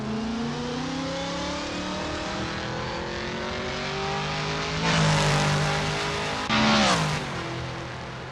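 Toyota Supra LM GT1 race car lapping Suzuka International Circuit GP in the Assetto Corsa sim racing game, a loud sustained engine drone with rising revs and two sharp bursts of higher revving near the end, no talk.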